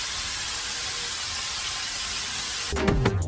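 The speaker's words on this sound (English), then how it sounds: "using adhesive spray we are laying the carpet down" A continuous spray of adhesive, used to lay carpet in a Ford E-350 camper van, hisses steadily for a few seconds, close by, then stops abruptly as some clattering handling noises follow.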